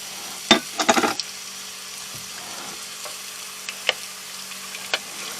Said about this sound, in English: See, we're just going to kind of lightly saute these